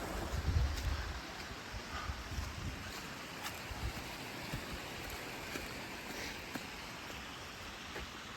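Small stream cascading over rocks along the Cave Creek Trail in the Cheaha Wilderness, heard as a steady, broad rushing wash with some wind noise across the microphone and no talking.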